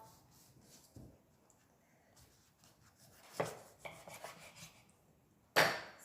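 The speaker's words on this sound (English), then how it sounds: "Firstly, you cut a lemon in half." A knife cuts a lemon in half on a board: a few soft cutting taps and scrapes, then one loud, close chop near the end, with no talk.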